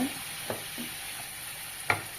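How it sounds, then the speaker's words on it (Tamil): A few soft scraping stirs of brinjal drumstick kara kuzhambu in a pan over a faint background sizzle, with brief utensil knocks spaced apart. "இதுவும் சேர்த்துட்டு நல்லா கலந்து விடுங்க"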